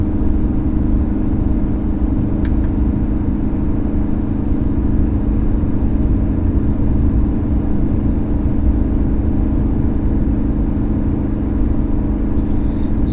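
Kia Tasman with a standard turbo diesel four-cylinder pulling hard at full throttle while towing a load, a steady loud low engine drone and rumble from inside the cab, continuous with no voices.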